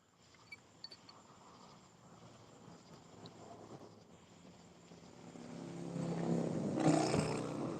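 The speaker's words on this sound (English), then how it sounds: "I'm hearing thunder now." Distant thunder rumbles low and broad during an outing after coming off the water from fishing for blue catfish, building gradually and peaking near the end as a heavier, rolling roar with no talk.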